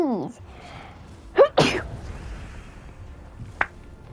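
A person sneezes loudly once, with an indrawn breath before it and a short sharp burst at the end, and speaks briefly around it.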